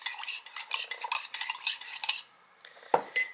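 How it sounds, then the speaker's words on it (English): A spoon stirs syrup into coffee, clinking rapidly against the cup in a quick rhythmic run, then pausing before a few final taps, close and clear. "So I'm just going to stir this up,"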